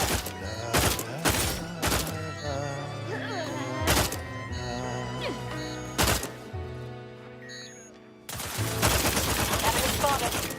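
Gunfire in The Outer Worlds video game, several sharp shots at irregular intervals among game music and effects, ending in a dense burst of noisy firing.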